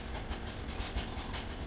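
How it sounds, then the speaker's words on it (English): A railway work train hauling construction materials for track replacement rolls steadily along the rails with a continuous, even rumble and clatter, heard alone at a moderate distance. "This continuous movement highlights the train's efficiency in transporting vital construction materials without interruption."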